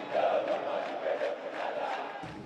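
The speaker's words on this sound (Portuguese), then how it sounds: "Esses cantos deles aí" Corinthians supporters chant together inside the arena during a team training session, a massed crowd of voices singing in a steady, rolling rhythm that fills the space, heard from a distance.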